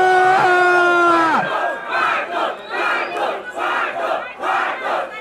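Audience at a trap-edition rap battle final bursts into rhythmic, chanted shouting and cheering, loud and pulsing, right after the host's call for noise.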